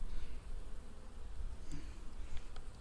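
Carniolan honey bees buzz around a heavy honey frame lifted from an autumn nucleus hive, a soft steady drone close by with faint handling noises.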